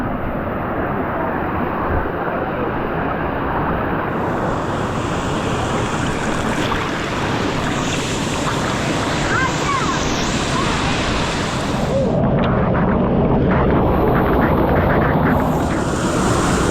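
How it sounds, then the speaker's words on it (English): Waterfall at a natural swimming pool near Medellín, Colombia, a continuous dense roar of falling water, loud and close, steady throughout with a slightly louder wash in the last few seconds. "take a shower in the waterfall."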